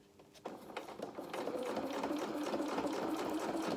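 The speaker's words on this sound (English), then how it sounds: "we're going to sew in between those 2 rows of stitching." A sewing machine runs steadily, stitching between two rows of gathering on a playsuit, starting faintly and building into a constant close mechanical whir.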